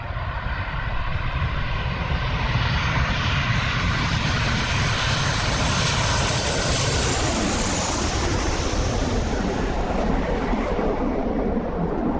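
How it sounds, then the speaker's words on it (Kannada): Passenger airliner taking off on a flight from Bangalore to Sindhudurg, its engines roaring loud and steady as a broad, continuous rumble that swells slightly in pitch and intensity over twelve seconds, heard from inside the cabin with no talking. "ಫ್ಲೈಟ್ ಟೇಕ್ ಆಫ್ ಆಯಿತು."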